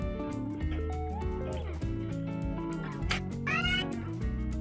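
A cat with an elastic band caught on its leg meows in a string of drawn-out, wavering, tonal calls, close and distinct, with a couple of rising, strained yowls toward the end.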